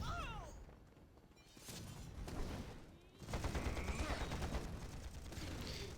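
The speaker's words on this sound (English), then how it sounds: "Guns firing from artillery master." Artillery guns fire in the Panzar video game skirmish, producing a busy, dense run of overlapping bangs and crashes that swells louder in the second half, with battle noise layered throughout.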